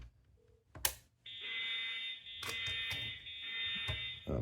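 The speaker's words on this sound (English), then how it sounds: "it's like a fire announcement to evacuate the building" A fire evacuation announcement played over a FreePBX home phone system: a steady high-pitched alarm tone sounds through the line, broken by clicks and brief bursts of noise, fairly quiet and slightly distorted.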